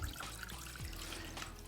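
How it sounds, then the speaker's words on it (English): Milk poured into a pan, a soft close liquid trickle and splash lasting under two seconds, with a few light clinks, no talk. "what we're going to do is we're going to add our milk to a pan,"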